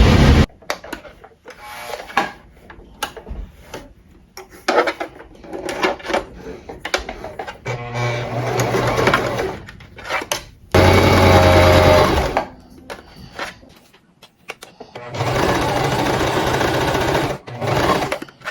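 A sewing machine stitches fabric for a pair of wrap pants, running in several short bursts and a few longer rattling runs. The bursts are separated by pauses and handling noises, and the machine sounds close and fairly loud.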